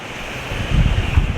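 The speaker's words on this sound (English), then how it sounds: "So we have the ocean right in front of us" Ocean waves roll onto the shore in Aruba with wind buffeting, a steady washing roar that swells midway, with no talking.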